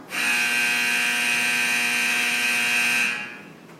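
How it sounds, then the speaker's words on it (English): A loud, steady electronic alarm blares continuously for about three seconds, a harsh buzzing klaxon fire alarm tone from a bank of alarms in a Titan II missile silo, that then cuts off abruptly. "setting off a whole bank of klaxon"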